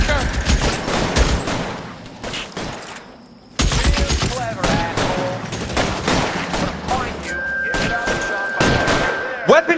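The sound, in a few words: gunfire in LA Noire video game shootout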